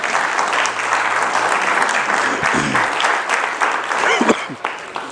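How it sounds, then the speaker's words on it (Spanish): A church congregation at a Bible study claps steadily throughout, dense broadband applause with a few voices and cheers rising near the end. "Le damos un aplauso al Señor."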